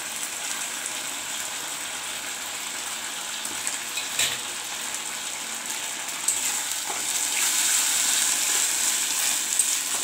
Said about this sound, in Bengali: সবগুলো একটু নাড়াচাড়া করে